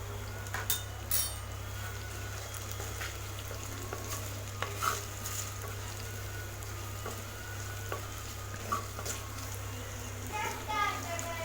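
Garlic sautéing in oil in a pan for a fenugreek kuzhambu, with steady soft sizzling and occasional stirring scrapes, then a brief clatter as asafoetida powder is added, close and fairly quiet.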